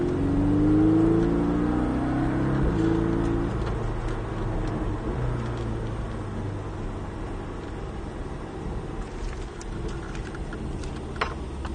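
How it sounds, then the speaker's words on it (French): A Porsche 718 Cayman S accelerates hard on a race track, its engine note climbing through a gear change and then holding a steady loud roar with wind and tyre noise, heard from inside the car. "Allez, on reprend les gaz."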